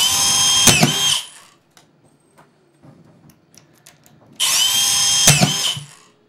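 A Hilti SD 5000 A22 cordless drywall screwdriver drives 1¼ in screws through a single layer of 5/8 drywall into wood. Two loud, close whirring bursts of about a second each are separated by a quiet pause.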